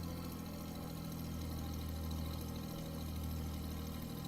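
A vintage Navion 205 aircraft's piston engine idles steadily just after start-up, a continuous close, rumbling drone with a throbbing low pulse and no talking over it.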